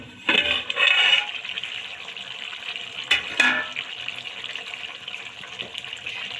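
Potato and cauliflower gravy cooking in a pan on high flame, giving a steady watery bubbling and sizzling hiss with a few louder spikes as the pan is stirred.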